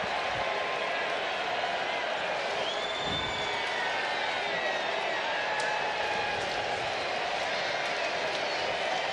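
A large baseball stadium crowd at a night Royals vs Angels game keeps up a steady, dense roar of cheering and chatter, with scattered claps and whistles rising through it for the whole stretch.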